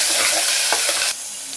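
Spices sizzle loudly in a hot pan for Chettinad chicken gravy, a dense close frying hiss with a stir scrape partway, dropping in volume near the end.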